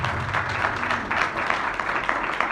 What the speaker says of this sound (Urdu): اسی کے لیے زوردار تالیاں.